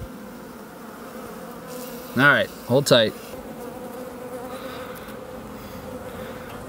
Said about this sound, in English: As you can hear, they are a ginormous hive in there.